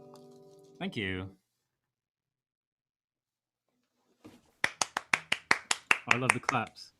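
Live audience at a Valentine's Day music show clapping: a run of about a dozen sharp, evenly spaced claps, close and distinct, following a short sung or spoken phrase and a pause.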